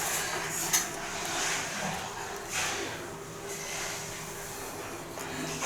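Curdled milk for homemade paneer being drained through a cotton cloth and sieve into a vessel, a quiet, continuous watery rush with faint clinks of the pot.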